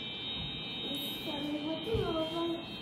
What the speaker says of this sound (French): Je suis désolée pour le bruit de la clim.